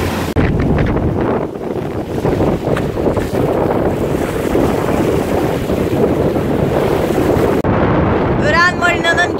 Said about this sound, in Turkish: Ve hava sert. Tekne sürekli yalpalıyor.